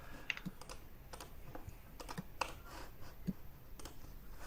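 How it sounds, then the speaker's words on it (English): Computer keyboard typing, with scattered key clicks and taps at an irregular pace, fairly close and moderately quiet, with no voices over it. "Everyone typing away like mad."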